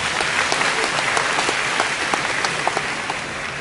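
Steady applause from a seminar audience in a lecture hall, dense overlapping claps sustained at even loudness throughout, without speech.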